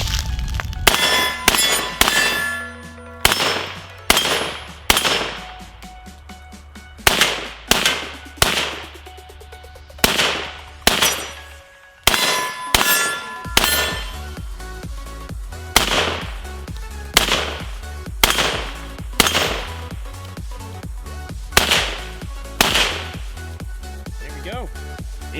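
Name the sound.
M1 Carbine rifle firing from 30 round magazine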